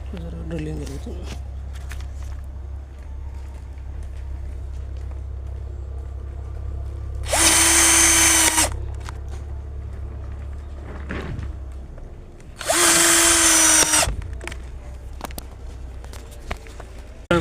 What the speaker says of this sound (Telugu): చూసారు, డ్రిల్లింగ్ జరుగుతుంది.